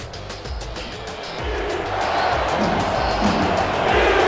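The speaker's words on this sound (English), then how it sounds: "Crowd still boisterous." Loud, continuous roar of a boisterous stadium crowd at a semifinal football game, swelling steadily louder with scattered thumps and shouts mixed in.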